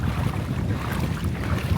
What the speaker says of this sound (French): Il fait venteux